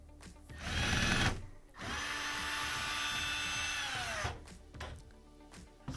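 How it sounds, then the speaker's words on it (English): A power drill with a Phillips bit backs out screws holding the drain pump on an LG washer/dryer combo: a short whirring burst, then a longer steady whine that winds down, loud and close. "So I'm taking out these 3 screws holding on the pump."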